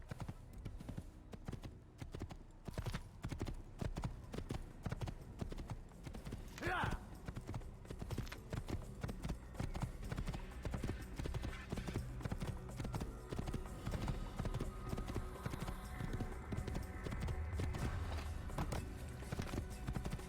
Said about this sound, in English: It's a nice horse.